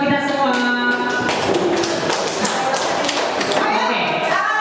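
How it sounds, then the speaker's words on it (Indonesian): A group claps together in a classroom during a teacher-training session for a module dissemination. The clapping is a dense patter of hand claps in the middle of the stretch, with children and adults talking around it. "Tepuk tangan buat kita semua."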